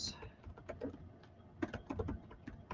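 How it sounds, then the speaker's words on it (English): Quick, quiet clicks of keys on a computer keyboard as a link is typed out, in irregular bursts of taps and short pauses. "Let me just type that out."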